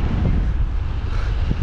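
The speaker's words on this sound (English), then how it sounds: "Windy." Wind buffeting the microphone in low, gusty rumbles during a road bike commute, steady and loud throughout the short moment.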